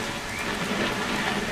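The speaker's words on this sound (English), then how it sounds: "It's gonna rain the whole weekend, isn't it?" Steady, dense rainfall in the video game What Remains of Edith Finch, a constant close wash of drops with no voices over it.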